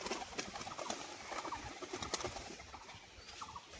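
Pigeons of the hand-flying show breed, including a biscuit-coloured male, make soft cooing and faint wing flutters at a distance, with bursts of activity at a moderate, fairly quiet level and no talking.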